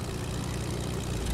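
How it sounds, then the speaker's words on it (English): Airplane engine in a multiplayer video game, a steady low droning propeller hum that stays loud and even throughout with no pauses or voices. "did you get a plane, Slim"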